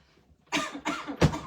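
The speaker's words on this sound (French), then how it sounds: "la toux qui persiste" A persistent cough from a woman: three harsh, close coughs in quick succession after a brief quiet moment.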